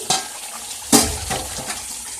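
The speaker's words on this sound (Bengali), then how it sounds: "লিডটা তুলছি।" A metal lid clanks as it lifts off a pot of chicken dak bungalow curry. A soft clink comes first, then a louder sharp knock, then faint scraping and bubbling from the pot.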